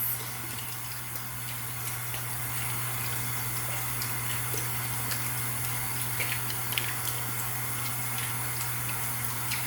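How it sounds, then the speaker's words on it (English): Steady running water from a sink tap while a face is washed, a constant close hiss with a low hum beneath and no talking. "I'm gonna wash my face."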